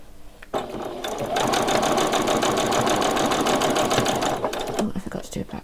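A sewing machine runs a steady back stitch on a frilled top, one continuous close buzzing run of about four seconds with a faint start and stop at either end.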